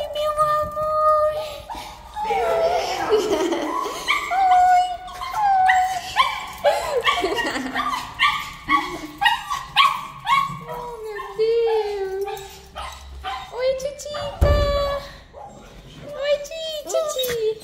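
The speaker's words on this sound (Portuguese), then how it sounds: "Olha quem já tá latindo." A dog yips, whimpers and barks excitedly in short bursts, close by, while a person talks over it in an affectionate tone.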